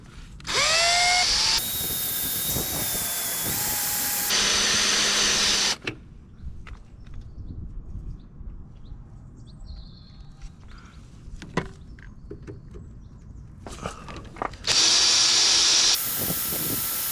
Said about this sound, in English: I'm going to have a try with the step drill